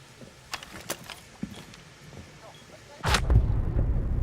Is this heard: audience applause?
no